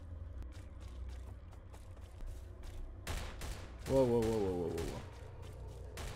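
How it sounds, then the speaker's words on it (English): Gunfire in the online shooter STALCRAFT, a dense crackle of shots building to a loud burst midway, heard over game ambience with a brief startled voice. "Okay, it's people shooting at me."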